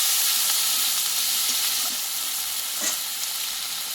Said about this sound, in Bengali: একটা পেঁয়াজের অর্ধেকটা পেঁয়াজ আমি বেটে নিয়েছি এবার একসঙ্গে ভালোভাবে কষিয়ে নেব